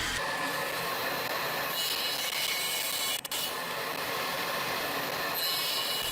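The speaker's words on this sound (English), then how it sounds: "while sawing this block of compressed soot, I've got the dust processor on" A table saw blade cuts continuously through a hard block of compressed graphite with a harsh, high grinding whine, a dust collector running, briefly cutting out for a moment midway, then resuming.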